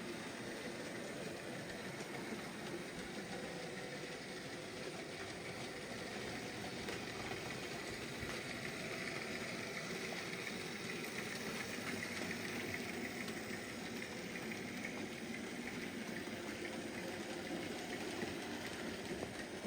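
A Hornby Austerity J94 model locomotive trundles steadily around its layout at low speed, giving a continuous, even, fairly quiet running rumble and whir with faint rail clatter and no talk.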